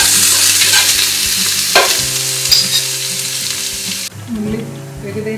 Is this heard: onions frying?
yes